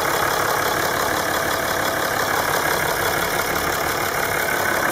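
A 2007 Dodge Ram 2500 with a 6.7-liter Cummins turbo diesel idles nearby in a steady, even rumble, a faint high turbo whine running above it. No one speaks.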